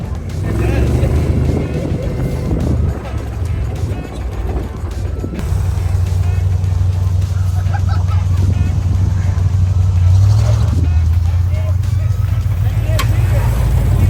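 A Jeep CJ5 with faulty brakes drives with a loud, steady engine drone and road rumble, marked by a few knocks and jolts as it brakes hard; people talk over the noise.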